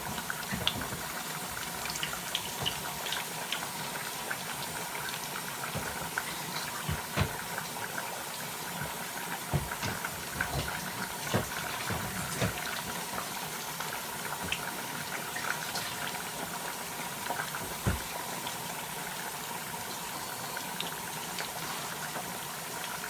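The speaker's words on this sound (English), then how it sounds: "we're gonna drop those down in the grease and start frying them" Food fries in hot grease with a steady, dense crackle and sizzle throughout, close and even, with scattered louder pops and no voices.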